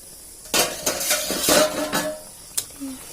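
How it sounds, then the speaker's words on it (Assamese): A spoon scrapes and clinks against a pot of simmering tomatoes and water in a few quick bursts of stirring, with a soft bubbling hiss beneath. "এতিয়া আকৌ লাৰি দিওঁ উতলি আছে"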